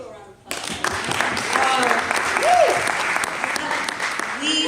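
An audience at a church-style talk breaks into applause after a brief quiet start, sustained full clapping from many hands that holds steady for several seconds, with a few voices and cheers rising through it.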